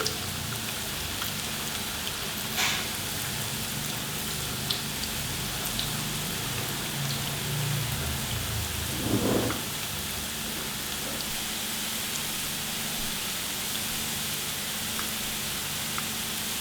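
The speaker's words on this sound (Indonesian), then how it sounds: "Langsung kita goreng di atas minyak panas. Tuh ya, langsung bagaikan butiran hujan kecil-kecil." Small drops of flour batter frying in hot oil for a homemade snack, a steady fine crackling sizzle like light rain throughout, with no talking.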